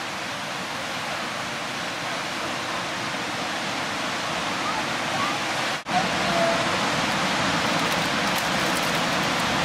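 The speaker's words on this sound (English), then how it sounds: "Just take a look at the waterfall." Steady broadband rush of a waterfall at Petit Jean heard close by on a hike, a constant roar with no pauses and a momentary dip partway through.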